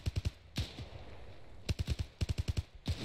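Arma 3 gunfire crackles in quick bursts, rapid sharp shots in clusters separated by brief pauses, fairly close, in a World War II Siegfried Line setting.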